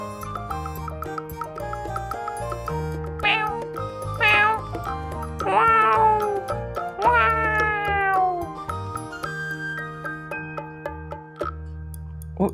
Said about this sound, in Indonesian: Oh iya, itu ada suara kucing ya.